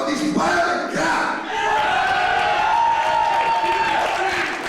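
Crowd at a professional wrestling show roaring and cheering loudly, a sustained mass of shouting voices with brief dips and swells.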